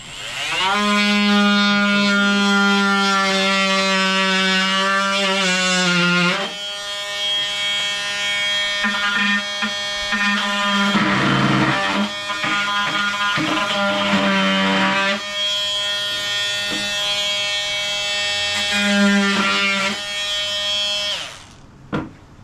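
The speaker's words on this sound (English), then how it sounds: "I'll just call it a cut-off saw for lack of a better term" A small cordless cut-off saw cuts through wood, its loud high-pitched motor whine running steady for several seconds, dropping briefly, then cutting again in bursts before spinning down near the end.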